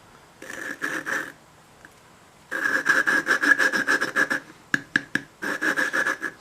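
An OHV engine valve being lapped by hand with a wooden suction-cup tool, heard as rhythmic gritty rubbing strokes in several bursts separated by brief pauses, close and fairly loud.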